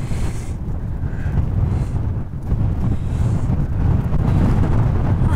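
Strong wind buffets the microphone on a high plateau at about 4820 metres, a loud continuous low rumble with gusting surges and no speech.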